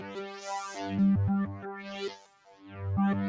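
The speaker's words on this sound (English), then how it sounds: "this is actually an incredibly fat sounding synthesizer" An original Crumar Spirit analog synthesizer plays a thick, fat-toned melodic line of sustained notes that step and glide between pitches, close and full, with a brief dip in level midway and no voices.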